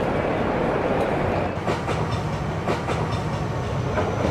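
Ambience recorded at a train station: a passing train rumbles steadily with rhythmic clickety-clack of wheels over rail joints, loud and continuous, with no voices.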